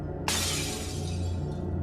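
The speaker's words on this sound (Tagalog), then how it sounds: "bumagsak lahat ng plato sa lababo." Plates crash down into a kitchen sink in a sudden loud shatter of breaking ceramic and glass, followed by a ringing, scattering decay over a steady low background hum.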